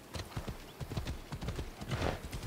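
Rhythmic clip-clop of horse hooves at a steady trot in the video game Assassin's Creed Odyssey, close and clear, continuing evenly throughout.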